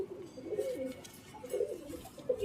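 A Giribaz pigeon coos softly in a few low, rolling phrases, close by, with faint background noise.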